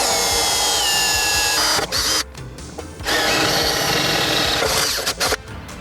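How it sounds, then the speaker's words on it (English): A power drill with a small bit bores a pilot hole in sheet metal, loud steady whirring in bursts with brief pauses between runs, close up and without talk. "I'm using a smaller drill bit first to make a pilot hole here"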